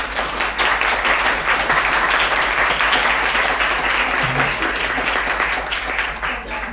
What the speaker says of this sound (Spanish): ¿Podemos aplaudir? Por favor.